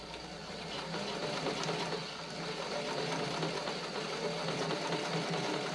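A sewing machine stitches elastic onto a test bra, running as a steady, close whir with a faint rapid needle chatter that holds without pause for the whole stretch.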